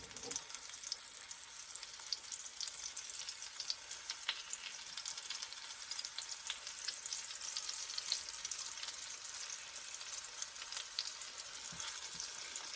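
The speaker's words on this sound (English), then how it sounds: "we do have some nice sizzling sound coming" Meaty short ribs sear in a hot pan, giving a steady, dense sizzle that runs unbroken and close at moderate loudness, with faint crackles scattered through it.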